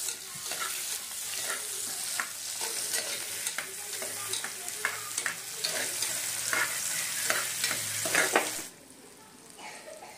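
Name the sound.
stirring onions and green chillies frying for mutton curry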